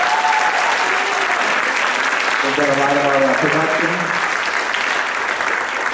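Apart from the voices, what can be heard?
wedding guests applauding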